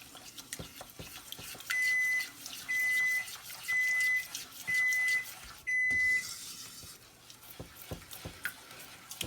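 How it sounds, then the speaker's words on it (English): A kitchen oven timer signals a finished cake with five evenly spaced, steady electronic beeps at mid volume, over quiet clatter and background kitchen noise. "I'm sorry for the beeping."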